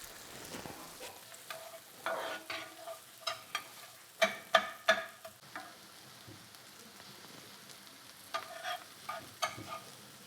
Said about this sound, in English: I've got the onions here, the red onions. So I'll throw these in first.